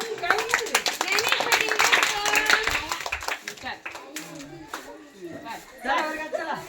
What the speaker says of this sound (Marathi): टाळ्या वाजवा रे बाकीच्यांनी